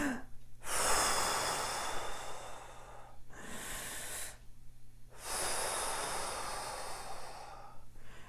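Three long, deep breaths drawn in and blown out slowly with a hissing rush of air, separated by short pauses.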